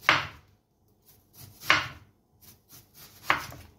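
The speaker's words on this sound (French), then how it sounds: "vous allez faire tout votre oignon en petites rondelles" A knife slices a red onion into thin rings on a cutting board: three crisp, separate cuts about a second and a half apart, close and clear, with quiet pauses between them and no talk.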